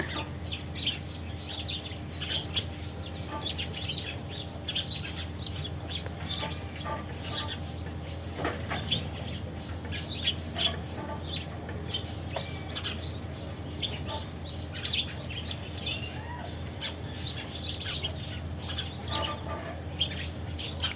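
Scattered chirps and clucking calls from a group of birds squabbling over rice, irregular and overlapping, over a low steady background hum.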